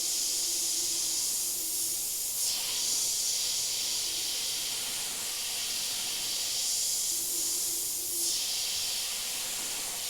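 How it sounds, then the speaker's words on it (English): An airbrush sprays paint onto a silastic skull, giving a steady close hiss of compressed air that swells in two brief stronger bursts, with no voices. "You can also pretend that there's an eyeball in there. Airbrush that in."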